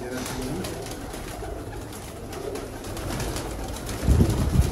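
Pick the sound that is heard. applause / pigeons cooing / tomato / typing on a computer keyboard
pigeons cooing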